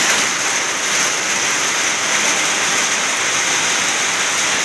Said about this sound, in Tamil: கோடை மழையை கர்த்தர் தந்து கொண்டிருக்கிறார்